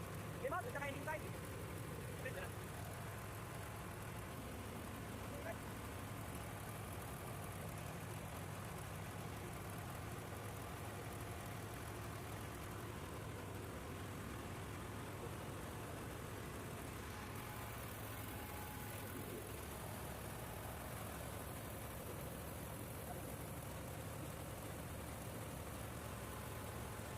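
Ship diesel generator running steadily in an engine room during generator safety tests, a low continuous drone with mechanical noise under faint speech, the tone shifting slightly partway through.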